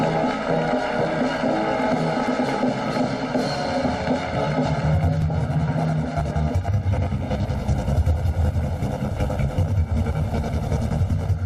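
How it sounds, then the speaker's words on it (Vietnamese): Gas turbine engines on the Sea Fighter naval ship roar steadily as the vessel accelerates at sea, a dense, loud, continuous drone mixed with rushing wind and water. "Bắt đầu tăng tốc, khởi động động cơ tua bin khí"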